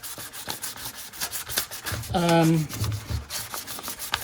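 Close-up abrasive rubbing as a painted car engine oil pan is sanded, steady scuffing strokes with a louder grinding burst midway, no talking.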